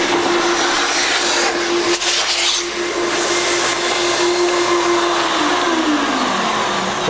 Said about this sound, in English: the vacuum's going to want to take all that smoke-like dust and bring it right to the filter